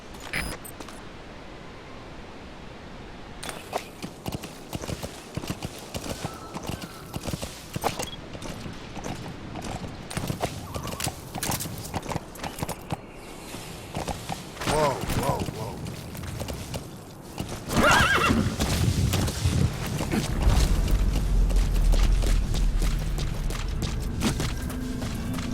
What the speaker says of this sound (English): Use your horse for traveling long distances.